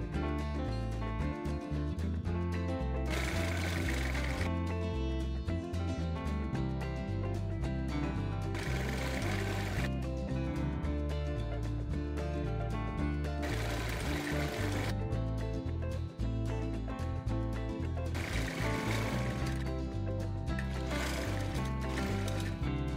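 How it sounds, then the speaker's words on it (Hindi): A sewing machine stitches fabric pieces together for a girl's dungaree-style designer top, its steady motor whir running continuously under loud background music. "फिर इसको सिलाई करके जॉइंट कर देंगे।"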